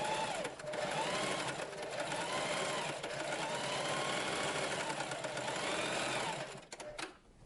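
Sewing machine running a straight stitch with a zipper foot while a strap goes on a 1950s-inspired costume: a steady close whirring hum with slight speed shifts that runs almost unbroken for about six seconds, then stops.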